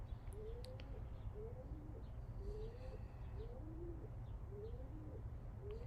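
A pigeon coos repeatedly on a windowsill, its soft rolling calls recurring every second or so over a steady low background hum, with no talking.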